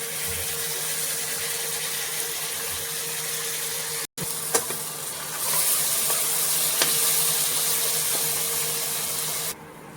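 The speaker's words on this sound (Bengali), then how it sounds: "তো তিল বাটাটা এখানে একটু ভালো করে ভেজে নেব" Sesame paste fries in oil in a pan for a fish curry, giving a steady, moderately loud sizzle that cuts out briefly, then resumes with a few soft spatula clicks and a slightly brighter hiss before dropping off.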